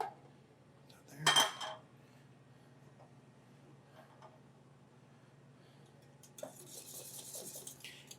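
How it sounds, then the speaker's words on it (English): A utensil scrapes and clinks in a pan of gravy for biscuits and gravy at a Nevada barbecue spot, with one louder clatter near the start, then soft scattered stirring and rubbing and a brighter scraping burst toward the end. "And just keep stirring."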